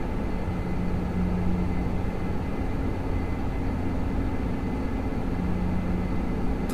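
Steady drone of airliner engines on final approach in a flight simulator, a loud, continuous low rumble with a faint hum layered over it and no change in pitch.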